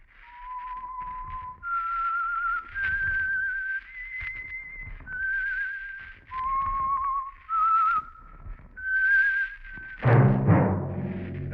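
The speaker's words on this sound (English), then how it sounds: "That whistle is your signal for the Signal Oil Program, The Whistler." A lone whistler carries the theme tune for The Whistler radio program, clear and close, each sustained note sliding to the next in a slow eerie melody, before a burst of orchestral music enters at the end.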